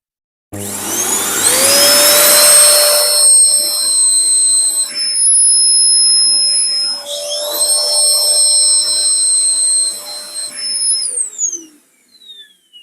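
An Electrolux Powerlite Z3319 1800w vacuum cleaner starts up with a rising whine, runs loud and close with a steady high-pitched motor tone that shifts pitch a couple of times, then winds down to silence.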